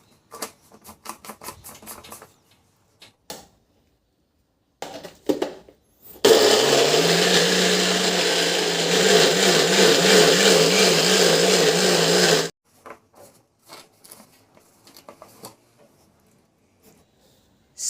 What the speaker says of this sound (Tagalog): I-blend ko yan hanggang sa mapure.